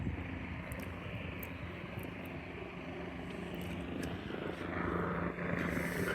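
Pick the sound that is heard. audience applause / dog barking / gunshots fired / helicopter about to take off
helicopter about to take off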